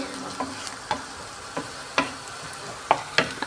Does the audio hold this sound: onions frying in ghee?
yes